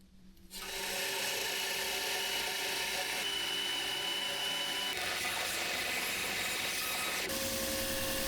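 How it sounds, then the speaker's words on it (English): An oscillating belt sander runs steadily and loudly on wood after a brief quiet start, its abrasive rasping hiss continuous throughout with slight shifts in load. "This here was actually the first time ever I used the oscillating belt sander"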